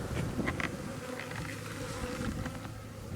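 A honeybee swarm hums steadily during swarming season, a dense, continuous buzz with individual bees passing close now and then, no voices over it.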